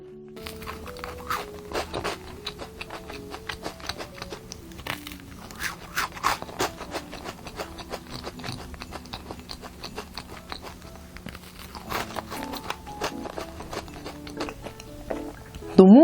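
Quiet crunchy bites and chewing of a crisp yet moist macadamia white chocolate cookie, with sporadic crackling snaps and soft mouth sounds spread over a long stretch, close to the ear.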